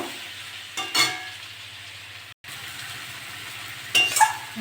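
Spices and chopped tomato sautéing in a pan for a Bengali fish curry with taro and pumpkin, a steady low sizzle with a couple of brief clinks and scrapes, close and moderately quiet, no voices.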